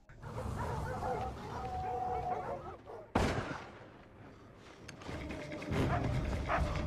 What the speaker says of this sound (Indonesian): tiba-tiba anjing menggonggong disertai suara ledakan senjata